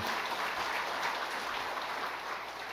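A church congregation applauding together, a steady, fairly even patter of many hands clapping throughout, moderately distant and without talk.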